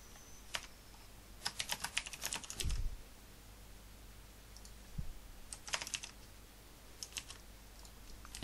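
Fingers type on a computer keyboard in quick bursts of soft clicking keystrokes, close and fairly quiet, separated by pauses over a low steady room hum.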